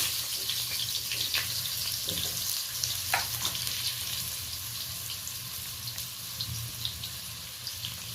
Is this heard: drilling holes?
no